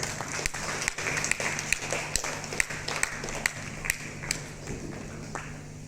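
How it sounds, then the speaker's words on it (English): An audience clapping at a school certificate ceremony, a continuous fairly close patter of hands with a few louder individual claps. "As the students are receiving their certificates, please keep on clapping your hands."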